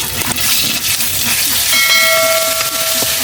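Coriander and cumin paste hits hot mustard oil in a village kitchen, bursting into a loud, close, continuous hiss with a faint thin whine running through the later part.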